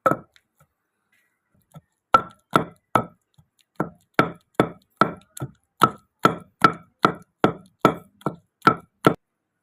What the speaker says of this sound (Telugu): ఇప్పుడు ఇందులో మనం ముందుగా కట్ చేసుకున్న ఉల్లిపాయ వేసుకొని మొత్తం అంతా బాగా ఒకసారి దంచుకోవాలి